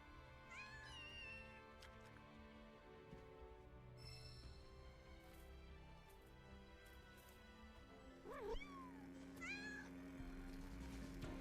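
Cats meow in the video game Final Fantasy 7 Rebirth, several clear mewing calls early and again near the end over soft game music, close and fairly quiet.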